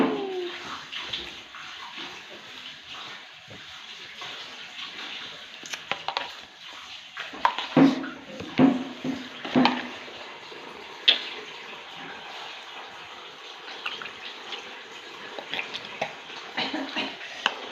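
Water runs steadily from a tap while something is washed, a continuous splashing flow punctuated by several louder clatters and knocks partway through, with no one speaking.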